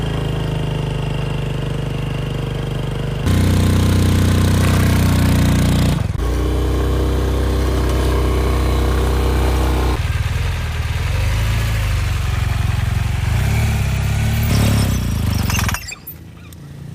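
A two-wheeled motorcycle engine runs loud and close throughout a safety riding demonstration, its pitch shifting as the rider works the throttle, then dropping off near the end.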